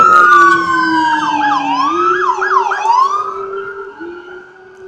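Loud, close wailing of an ambulance siren sweeping up and down in pitch, with a police cruiser's siren layered over it, fading slightly toward the end, in Los Angeles near Echo Park.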